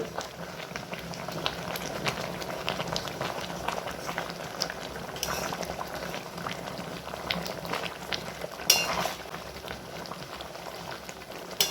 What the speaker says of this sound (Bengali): জলটা দিয়ে আমি আবার ভালো করে মিশিয়ে নিলাম